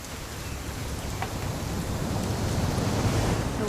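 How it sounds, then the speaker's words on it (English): Steady rainfall in the video game What Remains of Edith Finch, a continuous hiss of drops on surfaces that swells slightly louder toward the end, with no voices. "It's gonna rain the whole weekend"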